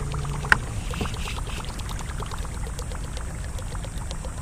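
Light splashy plopping and spitting of a Whopper Plopper topwater lure skipping across water while bass fishing, repeated rapid small splashes over a steady low rumble of a boat or current.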